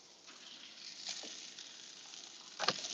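Turkey burgers fry in a pan, giving a soft, steady sizzle with faint crackles and a sharper pop near the end, heard alone without talk.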